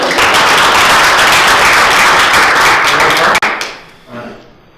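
Loud, dense audience applause at a business growth seminar, close and full for about three seconds before a sharp cut and quick fade.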